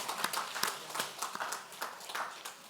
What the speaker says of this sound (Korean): 우리 박수 한번 해봅시다